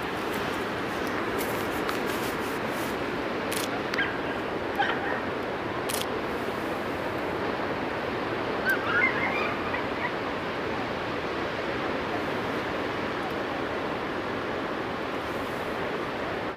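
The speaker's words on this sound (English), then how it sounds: "But no wind, but yet quite strong waves." Strong ocean waves wash steadily onto a calm, windless shore, a constant broad roar with faint distant calls that could be birds or a dog.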